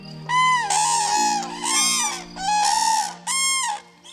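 Common cranes in a wetland sound loud, trumpeting calls in four bursts, with rising and falling bugling notes that carry clearly over a quiet background.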